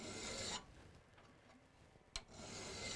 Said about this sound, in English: First thing I'm going to do is file the profile.